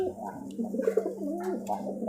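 A loft pigeon coos in soft, warbling, rolling calls close by, a steady low tone underneath, with a faint voice in the background.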